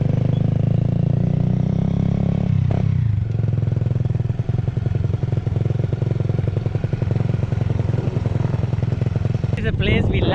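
A motorcycle rides along a rural road in Samar, its engine droning steadily and close with rattling clatter, the pitch shifting partway through, and a brief burst of wind or scrape near the end.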